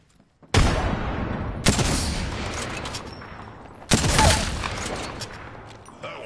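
A frag grenade detonates in the video game Apex Legends, two loud broadband blasts about two seconds apart, each trailing off into a rumbling tail amid gunfire-like crackle.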